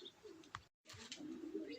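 Young pigeons at a pigeon loft coo and chirp softly nearby, with a brief moment of silence in the middle before the cooing resumes.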